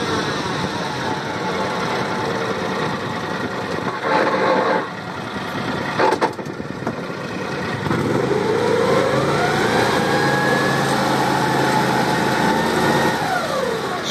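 An Argo amphibious vehicle in a dugout runs its engine in reverse, a steady mid-level drone that swells midway into a rising, straining pitch before easing off, heard up close with no talk.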